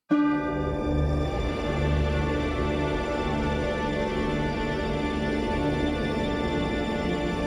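Sustained ambient exploration music from a dark fantasy video game, with layered tones and a steady low drone, moody and spacious, playing continuously at an even level without voices.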